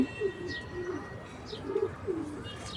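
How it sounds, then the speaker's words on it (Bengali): A pet pigeon on a rooftop garden gives soft, repeated throaty coos at a steady rhythm, with faint chirps from other birds in the background. "ওই যে আমার কবুতর আমাকে ডাকতেছে।"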